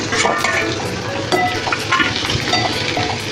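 Potatoes drop into a pan of fried onion masala, setting off a loud, busy sizzle with spluttering crackles and scraping stirs that continue across the whole stretch.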